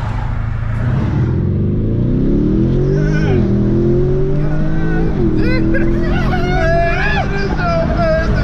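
A Lamborghini Urus accelerates hard from standstill to 60, its engine note climbing steadily through gear changes, loud and close with a voice talking over it.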